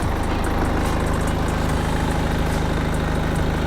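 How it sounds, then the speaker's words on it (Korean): A BMW 520d diesel engine idles close by, a low even rumble with a regular pulsing beat and no talking. "엔진 소리 일정합니다"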